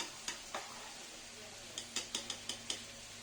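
Spice paste for a village-style boal fish curry is stirred and fried in a pan. A spoon scrapes the pan in quick, light strokes over a soft, steady sizzle, fairly quiet and close.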